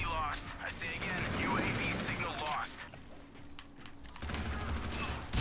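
Call of Duty combat with rapid bursts of gunfire and a grenade blast, sharp cracks and rattling shots clustered early, a quieter lull, then more firing toward the end.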